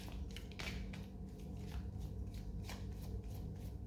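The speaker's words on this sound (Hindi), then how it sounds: "Last shuffle." Tarot cards are shuffled by hand in a continuous, soft riffling and sliding that stays faint and close, with no one speaking.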